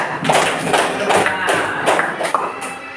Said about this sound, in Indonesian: Iya, kasih tepuk tangan semuanya.